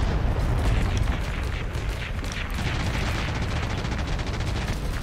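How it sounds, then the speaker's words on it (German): Grenades explode and gunfire rattles in the Heroes & Generals WWII video game, a dense, continuous barrage of blasts and shots with no pauses, loud and alone. "Hier explodiert gerade Granaten ohne Ende."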